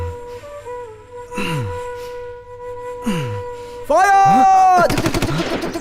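Gunfire in a Hindi dubbed action movie: a short, loud burst of rapid automatic shots late in the scene, following sustained musical tones, swooping effects and gasping voices.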